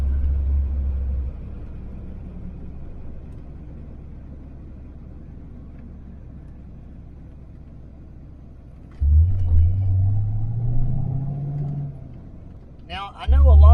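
A car engine with a $36 short throw shifter idles and rumbles low, then revs up sharply around nine seconds with rising tone as gears are slammed quickly, ending with another loud burst near the end.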